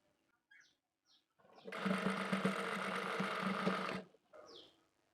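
A sewing machine runs in one continuous burst of about two seconds while stitching lace along the side seam of a shirt, with a loud close mechanical whir, preceded and followed by faint small handling sounds.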